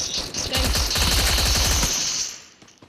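Rapid bursts of automatic gunfire in the Free Fire MAX video game, dense and loud for about two seconds, then trailing off quickly.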